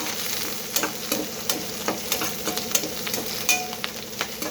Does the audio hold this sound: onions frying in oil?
yes